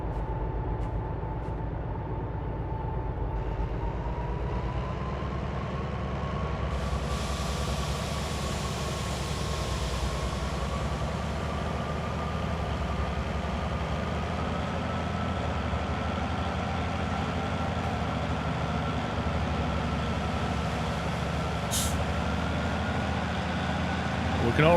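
A DE6 diesel locomotive works hard pulling a train on rails, a steady low engine drone with a slowly rising tone, continuous and fairly close, with a brief sharp click near the end.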